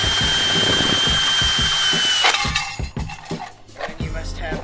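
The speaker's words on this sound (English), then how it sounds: "hold the can lid on yourself when you're drilling it on, or drilling a hole through it." A power drill bores through a metal can lid for a 40mm gas mask filter prop, a loud steady whine for about two seconds, then breaking into rattling, grinding bursts as the bit pushes through.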